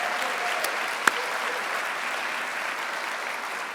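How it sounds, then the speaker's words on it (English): A round of applause from the audience at the Clayton County 2020 State of the County Address, a steady dense wash of clapping that runs evenly throughout, with one brief sharp tap standing out near the start. "let's give our Chief Operating Officer, Dietrich Stanford, and our county employees a round of applause"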